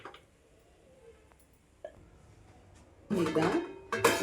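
After a quiet stretch, a metal lid clatters down onto a cooking pan holding drumstick (moringa pod) stir-fry, giving two sharp clanging knocks close by.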